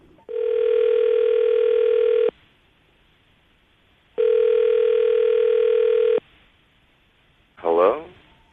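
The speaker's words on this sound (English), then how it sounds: "we're going to call him now, see if we can get him on the phone" Two long, even ringback tones sound on a telephone line as a call is placed, each lasting about two seconds with a pause between, followed by a brief voice answering.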